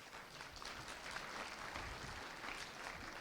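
A small audience claps steadily throughout, a dense, even patter of applause heard at a distance and fairly faint.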